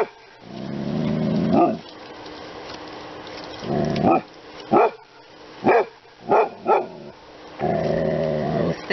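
Dog barking during an after-bath grooming and trim session, a series of sharp close barks and longer growling yelps in irregular bursts, loud and clear with no talk.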